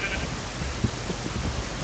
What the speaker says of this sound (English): because of the spider, I'm accidentally hitting the cow